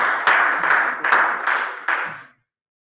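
Audience clapping for a presenter at a talk on digital solutions for farmers in remote communities, a dense burst of applause lasting about two seconds before cutting off to silence.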